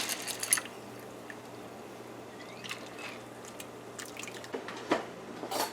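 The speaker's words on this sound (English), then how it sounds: "we're boiling about 4 cups of water here, to which we're gonna add the split peas here to boil" Split peas go into a pot of boiling water, a few sparse plops and drips over a quiet, steady background, each one short and close.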